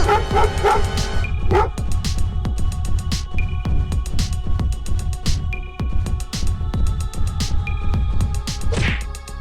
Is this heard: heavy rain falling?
no